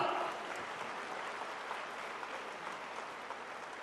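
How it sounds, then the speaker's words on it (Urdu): Applause from an audience at a Pakistani prime ministerial event, steady and fairly faint, holding at an even level throughout with no talk over it. "خواتین و حضرات بھرپور تالیاں۔"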